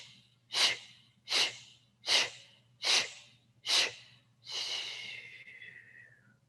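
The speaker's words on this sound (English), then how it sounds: "take 5 rounds of fire breath, breathing in through the nose, out with that SH sound" Yoga breath of fire, breathing in through the nose and out with an SH sound: five sharp, evenly spaced breathy bursts, then a longer fading exhale, close and clear with no talking.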